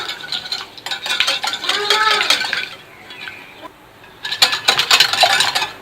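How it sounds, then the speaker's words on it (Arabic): Eggs are beaten in a bowl in rapid bursts of whisking and clinking against the sides, with a short pause before the beating picks up again, loud and close. "غادي ناخذوا البيض، نضربوا البيض مزيان"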